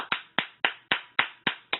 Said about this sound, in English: I did some Pentecostal claps on them.